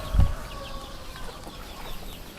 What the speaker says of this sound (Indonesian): Oh ini mah ayam kampung.